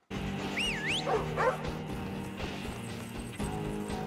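A dog yips and whimpers in high, rising and falling cries, then falls quiet over a steady background hum in a scene from a TV drama.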